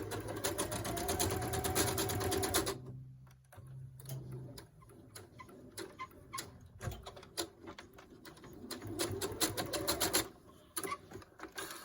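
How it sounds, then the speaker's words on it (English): A sewing machine back stitches at the end of a seam on a reversible valance, a quiet rapid ticking run, a pause filled with scattered clicks, then another stitching run. "And of course you want a back stitch."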